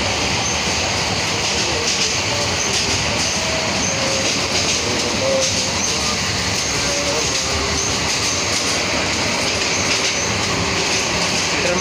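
Meghna Express intercity train running between Chandpur and Chattogram, a loud continuous rumble heard from inside the carriage with steady rattling and faint wheel clatter throughout.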